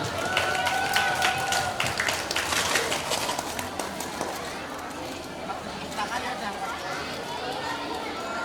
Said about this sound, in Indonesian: Tepuk tangannya teman-teman.